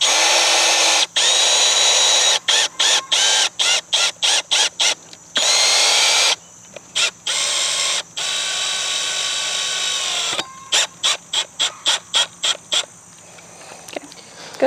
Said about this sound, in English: So I need to pre-drill the end of the 2x4 too.